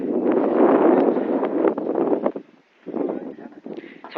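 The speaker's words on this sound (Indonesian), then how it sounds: "Angin." Cold wind blows across the summit of Mount Ciremai, at 3,078 metres, buffeting the microphone in loud, rough gusts that drop briefly to near quiet before picking up again.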